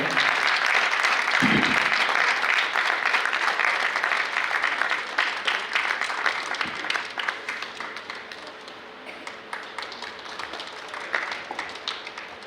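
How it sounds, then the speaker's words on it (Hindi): Loud, sustained applause from an audience at a dance drama performance in Bhopal fills the hall, a dense wash of clapping that gradually thins and softens toward the end. "जोरदार तालियां।"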